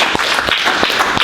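Math class applauding a student, a burst of dense, even clapping from a roomful of kids, loud and close, sustained throughout.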